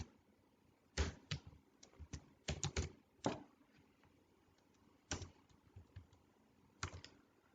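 Scattered keystrokes on a computer keyboard while a submit button is typed into a web form, coming in short bursts and single taps with quiet gaps between them.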